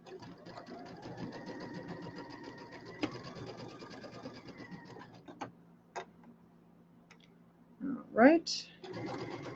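A home sewing machine stitches a seam on a quilted welcome pillow in a steady, rapid mechanical patter, stopping as the needle drops at a corner to pivot; a voice speaks briefly, then handling clatter follows.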